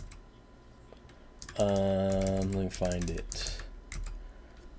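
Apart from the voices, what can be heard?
typing on a computer keyboard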